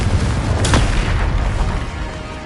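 A Confringo spell explosion in the video game Hogwarts Legacy: a loud, close booming blast erupts early, then leaves a rumbling, crackling roar that slowly fades, with no speech.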